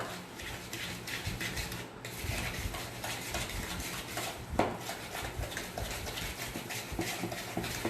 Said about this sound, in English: So I'm using a small whisk.